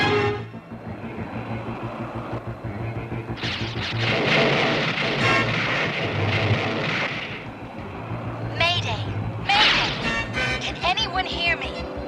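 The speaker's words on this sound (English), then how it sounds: "I've been caught in a cosmic storm and swept off course." Cartoon thunder and crashing booms from a cosmic storm in the He-Man and the Masters of the Universe animated series roll loudly and heavily, with zapping bursts later on and a voice talking over them.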